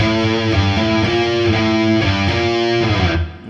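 A heavily distorted electric guitar plays a riff slowly, a thick, sustained chugging line with shifting notes, loud and close, ending with an abrupt cutoff.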